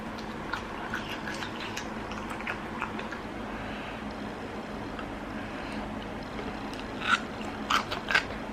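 Plain sea grapes seaweed eaten without dip, with soft close-up crunching and wet chewing bites repeating steadily, ending in a few louder crisp pops.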